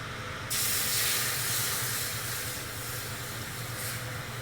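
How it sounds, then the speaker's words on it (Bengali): Water poured into a hot karahi still coated with caramelised sugar bursts into a loud, steady hiss of steam that starts abruptly and holds for several seconds. "আমি একটু কড়াইয়ে জল দিয়ে দিলাম"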